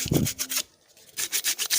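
Rhythmic rough scraping strokes of a knife or sandpaper rubbing an aloe vera leaf, with a brief pause in the middle.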